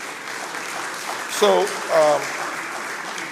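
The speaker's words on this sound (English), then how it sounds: "let us give the panelists a round of applause" Audience applause for panelists at a Nigerian business conference, brief and moderate, with a speaker's voice over the clapping.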